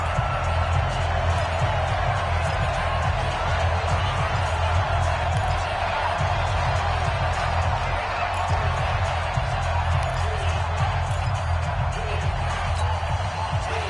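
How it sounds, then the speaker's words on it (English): A steady, roaring stadium crowd in a PlayStation 4 American football video game featuring the Seahawks, building ahead of a big third down, dense and continuous throughout with faint voices mixed in. "The crowd getting into it as we come up on a big 3rd down."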